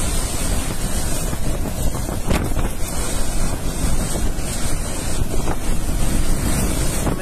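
Strong typhoon wind from Typhoon Odette (Rai) batters the microphone in a steady, loud broadband roar with gusty surges, buffeting and rushing like surf throughout, with no talk.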